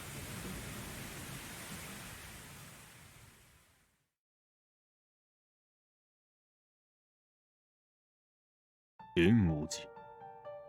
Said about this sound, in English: Outside, the rain is still pouring.